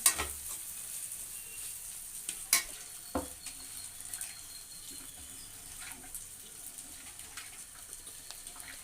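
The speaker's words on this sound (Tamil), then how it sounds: "இதை லைட்டாக கிண்டி விட்டுக்கோங்க." A frying curry base of onion, tomato, turmeric, salt and chili powder is stirred in a pan, making a faint low sizzle with a few soft scrapes and clinks of the spoon, and no speech.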